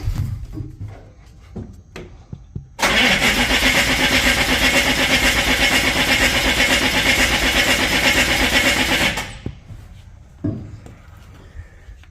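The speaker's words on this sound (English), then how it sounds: "Now we'll see if she starts." A methanol-fueled engine cranks hard for several seconds in one long steady grinding burst, loud and close, with quieter clicks and knocks before and after, but it never catches.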